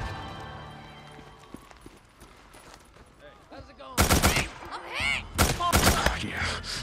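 Gunfire from the video game Days Gone during a camp ambush: after a quieter stretch, loud rapid bursts of automatic fire break out close by, with several sharp volleys in a row.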